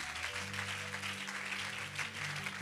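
A church congregation applauding, a steady wash of many hands clapping throughout, moderately distant and fairly quiet.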